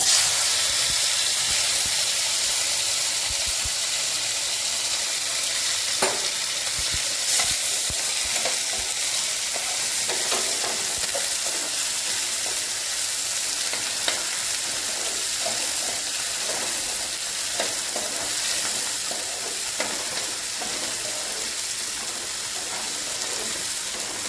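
Cumin, onion and tomato frying in a pan, a steady loud sizzle and hiss of hot oil with occasional stirring clicks and scrapes, continuous and close.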